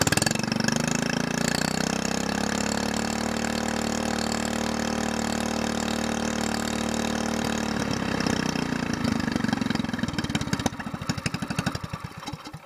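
An SPS longtail mud motor running after long storage idles with a steady, close engine drone; near the end it turns rough and sputtering, with uneven popping firing pulses.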